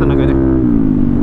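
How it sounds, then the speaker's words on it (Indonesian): A Yamaha Aerox 155 scooter fitted with an Arrow aftermarket exhaust revs up close, giving a steady, mellow engine drone that settles after a brief rise, not very loud, with a voice talking over it. "menurut aku ini suaranya 11-12 sih sama knalpot itu, benar-benar adem, nggak terlalu berisik"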